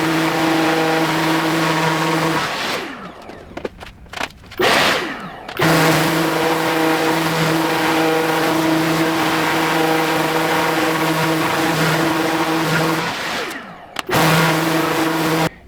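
A power sander with 120 grit sandpaper works over an epoxy inlay in wood. It makes a loud, continuous motor hum with a steady pitch, dipping briefly twice as the tool lifts off, then resuming.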